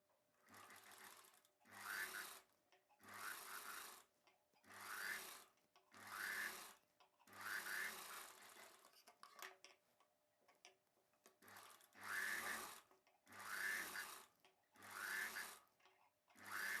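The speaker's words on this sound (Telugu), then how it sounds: "ఈ చివరిన ఎడ్జ్ని ఫోల్డ్ చేసి కుట్టు వేసేసుకోవాలి." A sewing machine stitches a folded lining edge on a boat neck blouse in repeated bursts of rapid mechanical whirring, about a dozen runs separated by short pauses, close and clear with no talking.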